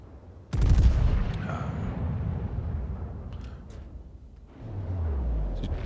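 Heavy naval gunfire in World of Warships, with a Pensacola cruiser lobbing shells over a mountaintop: a loud booming salvo bursts out, then sustained rumbling gunfire and blasts roll on, swelling again near the end.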